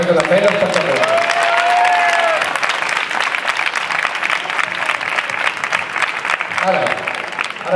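Applause from an assembly of the 15M movement in Terrassa, honoring its commissions and working groups, rises loud and sustained, with some voices and cheers mixed into the dense clapping.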